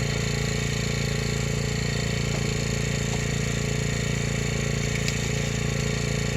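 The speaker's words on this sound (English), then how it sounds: "You can hear our generator humming away in the background." A generator hums as a steady, unbroken low drone with faint clatter on top, running constantly in the background at a cabin site.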